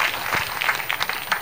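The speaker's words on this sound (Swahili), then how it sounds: "Sisi wote tupige makofi." Applause from the crowd at a Catholic parish family day celebration in Riruta: a short burst of dense, steady clapping that stays fairly even.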